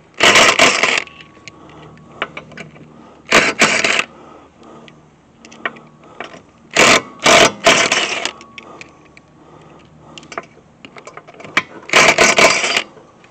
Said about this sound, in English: Not trying to ratchet them off, we're just trying to unscrew them. And this Ryobi driver's pretty good.